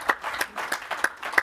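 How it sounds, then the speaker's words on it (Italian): Clapping at the official presentation of the Tour of the Alps 2022 cycling race: a handful of distinct, evenly spaced claps, about three per second, close and moderately loud against a quiet room. "l'applauso ci sta tutto"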